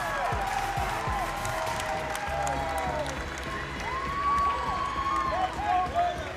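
A large indoor arena crowd at a Maryland at Ohio State meet roars and cheers continuously, with rising shouts and whistles layered over a dense, loud wash of noise.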